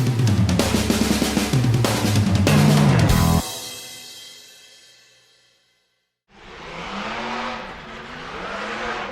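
Race cars in a figure-eight race roar loudly with revving engines and passing bursts, then the noise fades away to near silence before a broad engine rush swells back in.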